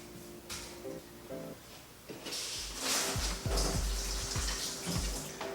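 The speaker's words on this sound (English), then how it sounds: "I'll quickly wash my hands as I go because I just like to keep things neat" Tap water runs and splashes as hands are rinsed under a faucet during a home biodome build, soft at first, then a steady rushing stream with a few low knocks and handling clatters.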